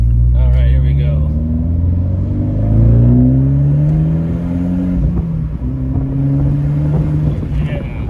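A 2018 Fiat 124 Spider Classica with six-speed manual, turbo boost building, loud in-cabin engine drone rising in pitch through the revs, easing, then climbing again, steady and close.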